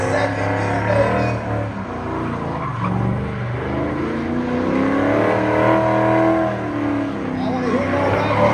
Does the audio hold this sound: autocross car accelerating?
yes